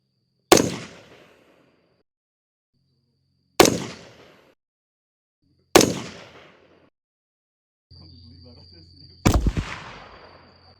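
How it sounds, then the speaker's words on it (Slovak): Three sharp, loud gunshots from a 5.56 rifle fitted with an Acheron LTX suppressor, firing GGG 69-grain ammunition outdoors, evenly spaced with decaying tails, then a steady hum and a fourth rattling report. "Teraz ideme strieľať GGGčka."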